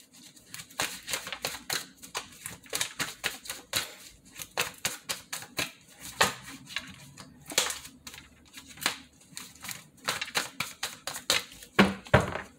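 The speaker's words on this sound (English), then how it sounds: "Just gonna shuffle these really quick." A deck of tarot cards being shuffled by hand, a dense run of quick crisp riffling snaps and taps in irregular bursts, close and clear with no talking.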